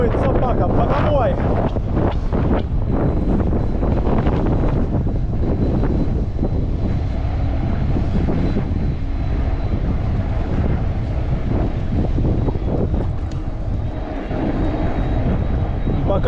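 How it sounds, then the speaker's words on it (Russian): Strong wind blowing in off the sea on the Crimean coast buffets the microphone in a loud, continuous roar that stays heavy throughout, with a voice speaking under it. "Капец, ветер."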